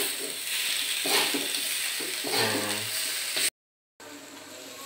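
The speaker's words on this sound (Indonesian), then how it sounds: "Terus saya aduk ya." Blanched vegetables being stirred and tossed for Indonesian urap sayur, a steady scraping, clattering mix that runs continuously, then cuts out briefly before resuming softly.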